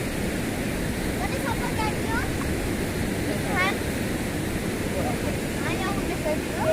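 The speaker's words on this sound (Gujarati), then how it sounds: "બહુ જોરદાર પાણી છે." A monsoon-flooded village river, the Saga Vadi, rushes in a steady, loud broadband roar of churning water with no break, while faint voices surface now and then in the background.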